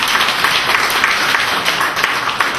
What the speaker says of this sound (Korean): 이런 분들에게 박수 한번 쳐주십시오.